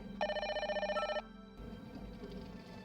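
A telephone bell rings in a fast repeating burst for about a second in a quiet room, then stops, leaving faint room noise behind.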